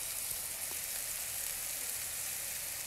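Ingredients for Tamil beetroot chicken sauté in a pan with a steady, soft hiss of frying that runs without pause. No one speaks.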